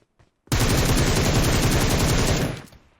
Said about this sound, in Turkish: Sonunda yani tüm şarjörü boşalttık be kardeşim.